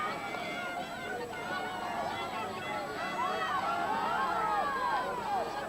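A crowd cheers and shouts at the finish of a 1997 rowing race in Gibraltar, with many overlapping voices rising and falling in a continuous, moderately distant roar.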